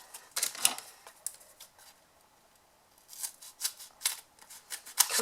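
Foam adhesive sheet being cut for a chocolate stocking box, heard as close, crisp snips in short clustered bursts with quiet gaps between.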